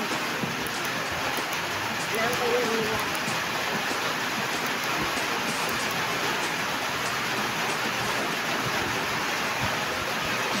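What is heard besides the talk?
heavy rain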